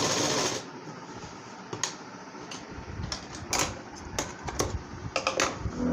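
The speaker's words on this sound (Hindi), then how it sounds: "और फ्रेंड्स इसको खोल के इस तरह से इसके ऊपर भी एक सिलाई लगा दें आप" A sewing machine stitching a seam on a petticoat, running in short bursts of rapid clattering needle strokes separated by brief pauses, close and clear with no talk.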